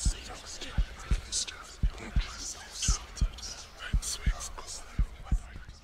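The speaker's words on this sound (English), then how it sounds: "Don't be playing heartbeats at me." A thudding heartbeat pulses in a steady double-beat rhythm inside the horror video game The Tape, with faint whispery sounds drifting over it.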